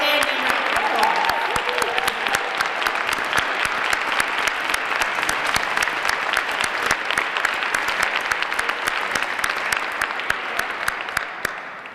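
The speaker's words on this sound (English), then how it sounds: "Let's give Yamari a standing round of applause." A large audience at a Cleveland executive order signing ceremony gives a standing round of applause, loud dense clapping that stays steady for the whole stretch, then starts to thin out at the very end.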